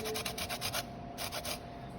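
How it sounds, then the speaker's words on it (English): Lemon zest is grated into a bowl in quick, rhythmic rasping strokes, about half a dozen close scrapes, a short pause, then a few more, all fairly quiet. "we'll get a whole bunch of this in the end once we grate the whole entire lemon"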